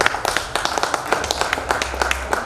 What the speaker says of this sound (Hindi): थोड़ा सा जोरदार ताली बजा दें।